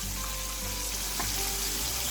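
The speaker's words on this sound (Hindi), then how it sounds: "इसी तरह आराम से साइड पलटते हुए सारी साइडों से" Buttermilk-coated chicken pieces sizzling steadily in hot oil as they are turned, a close, continuous frying hiss with no talk.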